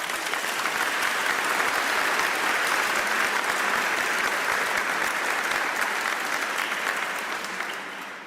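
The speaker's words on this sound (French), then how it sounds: "Nous pouvons aussi les applaudir, les servants." A cathedral congregation applauds its altar servers with steady, dense clapping that fills the space for several seconds and then begins to fade toward the end.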